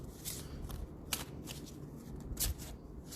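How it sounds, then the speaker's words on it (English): A deck of playing cards being shuffled by hand, a soft continuous riffling with a couple of sharper bursts where the cards snap together, fairly quiet and close, with no talking. "I'm going to shuffle these cards."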